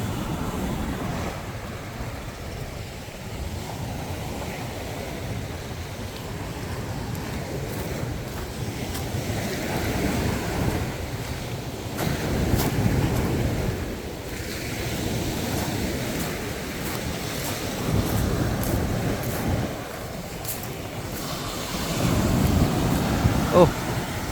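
Continuous rough sea surf with wind buffeting the microphone, waves surging and crashing over a long stretch, with faint voices in the background.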